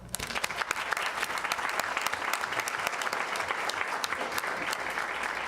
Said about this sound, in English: Now that's worth a round of applause.